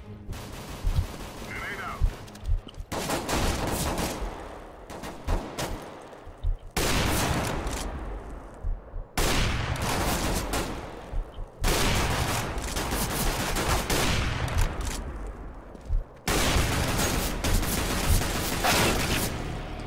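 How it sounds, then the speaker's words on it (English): Long, loud bursts of rapid automatic gunfire in Counter-Strike: Global Offensive repeat in several waves, separated by short gaps with scattered single shots. "if you guys don't see shit and you hear gunshots"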